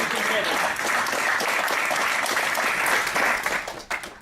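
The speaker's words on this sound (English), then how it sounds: "I think a round of applause" Audience applause at an Ethereum Edinburgh meetup, steady, close and sustained clapping from a room of listeners that tapers off near the end.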